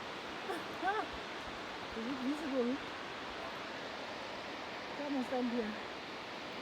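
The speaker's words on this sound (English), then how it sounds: "Look at waterfall." A waterfall in Johannesburg's botanical gardens pours as a steady, broad rushing hiss that runs unbroken throughout, with people talking briefly over it at close range.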